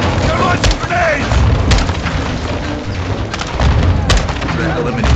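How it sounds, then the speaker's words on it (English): Grenade blasts in the video game Modern Warfare 2 campaign, heavy booms and thuds going off repeatedly amid battle noise, with soldiers shouting over the explosions. "They're launching grenades!"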